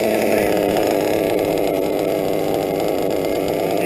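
A Novarossi Roma nitro engine idles low and steady, sending out a loud, close, continuous buzzing drone with no break.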